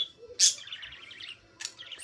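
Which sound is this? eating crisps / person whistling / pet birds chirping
pet birds chirping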